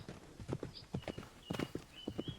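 Pony galloping in the Roblox horse-racing game Strideway during a solo speed race, a steady run of clip-clop hoofbeats with game sound cues above, no talking.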